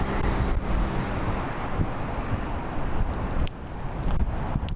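Wind noise roars steadily over the microphone while cycling into a headwind in a bike lane, a loud continuous buffeting rush with a few sharper gusts and no talking.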